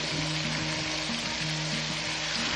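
Eggplant and okra sizzle steadily in a hot pan, a continuous close frying hiss with no talking, part of a Filipino stir-fry with ground pork.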